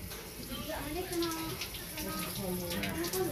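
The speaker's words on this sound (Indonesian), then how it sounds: "siram kocor lah, siram bersih seperti ini." A freshly planted aglaonema cutting is watered, with a soft running, splashing stream under a voice speaking, which keeps going throughout.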